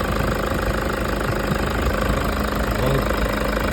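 A diesel engine in a 2008 Toyota Hilux with the 1KD engine runs at a steady idle after a fuel filter replacement, with a close, loud, even clatter that holds unchanged throughout.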